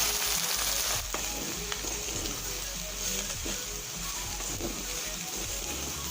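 Crushed masala sizzles hard in hot oil, a continuous loud crackling fry with faint scraping stirs, close up and with no talk over it.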